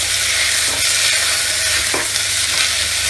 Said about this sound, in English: Now I will add dry thyme and finally I will add pumpkin. I will mix it properly.